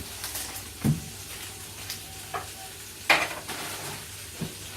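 Sausages sizzling gently in a frying pan over lowered heat, a soft continuous crackle broken by a few louder clinks and scrapes of a utensil moving them around, fairly quiet and close.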